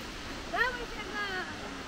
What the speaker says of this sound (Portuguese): A Cachoeira Cascadanta é o principal cartão postal da Serra da Canastra. 188 metros de queda.